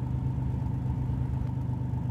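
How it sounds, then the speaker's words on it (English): A car engine idles steadily at close range, a continuous low, even rumble with no revving or other sounds. "This is a car"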